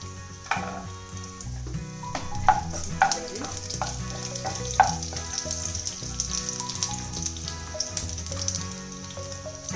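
Chopped garlic and mustard seeds fry in extra virgin olive oil, giving a steady, loud sizzle with occasional clinks of stirring, and no voices.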